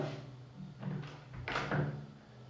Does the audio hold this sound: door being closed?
yes